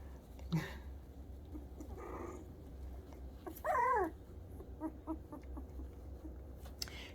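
A small puppy lets out a few high whimpers and a short yelp-like cry, faint against quiet background noise.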